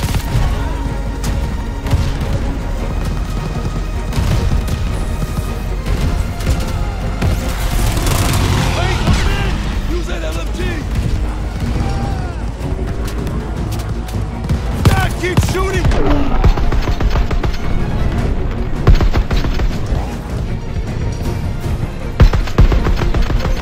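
Sustained, loud battlefield gunfire in Call of Duty: Vanguard: dense automatic bursts and booming blasts that overlap for the whole stretch, with heavier volleys building toward the end.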